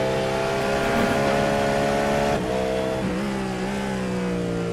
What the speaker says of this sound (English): We will try to hear his car and see how much he is working on the fuel saving.